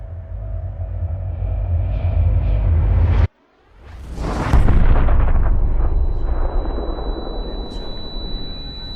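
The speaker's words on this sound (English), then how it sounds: "when I hear this incredible explosion" A plane crashing into an office tower sets off a sudden, loud explosion: a rumbling roar cuts to near silence, then a deep blast surges and rolls on with a long, fading rumble.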